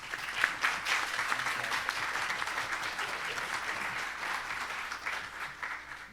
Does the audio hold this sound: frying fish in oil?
no